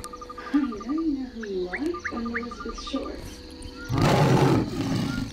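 Near the end of the clip, the Tiger King in the Wildcraft Halloween update lets out a loud, close roar. Before that come game chirps and a swooping tone, and faint voice-like sounds precede the roar.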